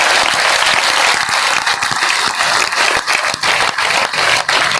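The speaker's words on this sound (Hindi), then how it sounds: "एक बार जोरदार तालियां बजाइए, पूरा पंडाल बन जाए, पूरा सागर बन जाए।" A large crowd at a political party rally in a big tent applauds loudly and continuously, with some sharper individual claps standing out within the roar.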